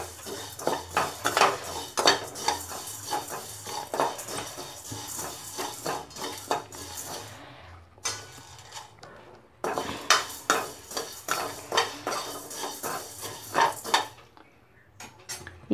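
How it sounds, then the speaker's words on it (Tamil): Semiya vermicelli being lightly roasted in a pan, with steady metallic scraping and clinking of a spoon stirring against the cookware, continuous and fairly close, with a brief lull midway. "இது வறுத்த சேமியா தான், இருந்தாலும் லைட்டாக ஒரு வாட்டி வறுத்துட்டு நம்ம செய்யலாம்."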